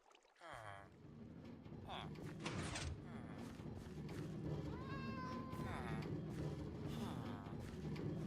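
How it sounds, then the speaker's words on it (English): A cat in a blocky sandbox video game meows several times, short rising calls repeating over a busy background of game ambience, while someone talks over parts of it. "Where'd the kitty go?"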